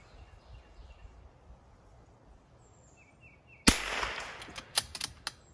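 Rimfire rifle shots at a precision shooting match ring out after a quiet stretch, one sharp near crack followed by several quicker, fainter reports in a loose cluster.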